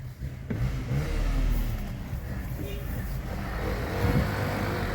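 A car accelerates while overtaking on the right on a road near Mudumalai Theppakadu, its mid-pitched engine revving steadily and close with road rumble, under some faint talk.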